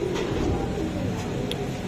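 Pigeons at a busy Lalbagh market in Old Dhaka coo softly and continuously amid dense crowd and market noise, with no clear talk.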